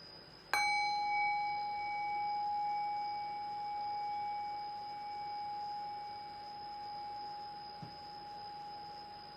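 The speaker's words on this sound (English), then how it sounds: "I'll ring the sound of the meditation bell" A meditation bell struck once, a sharp bright onset followed by a long, pure ringing tone that slowly decays over several seconds in a quiet room.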